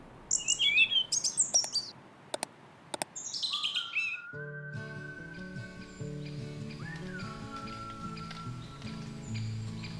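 A small bird, a white wagtail, chirps in quick, high bursts at the start, followed by faint clicks and then a steady tonal hum that takes over.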